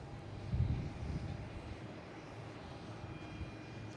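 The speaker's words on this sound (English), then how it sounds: "Next coming in is a Delta, E175 coming in from Cincinnati." A Delta Embraer E175 regional jet arriving at Boston Logan from Cincinnati, heard as a faint, distant low engine rumble that swells briefly and then fades into steady background roar.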